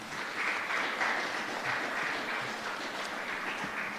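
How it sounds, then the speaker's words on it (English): An audience at a national tourism debate grand final claps for the sponsors, a moderate, steady round of applause lasting a few seconds without a clear peak. "Give them a round of applause, please"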